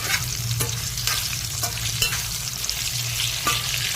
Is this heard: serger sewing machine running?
no